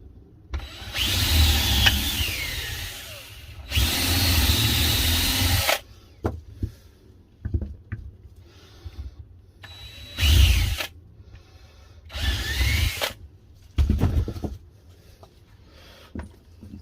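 Cordless power drill driving screws into wood to build a seed tray tamper, several loud whirring bursts a few seconds each with quieter pauses and small handling knocks between them.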